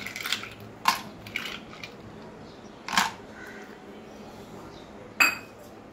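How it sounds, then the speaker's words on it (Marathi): Ice cubes dropped into mattha, a spiced buttermilk with sugar, in a home kitchen. A few separate clinking thuds land with pauses between them, clear and close, with nothing else happening. "आता आपण त्यात बर्फ टाकू"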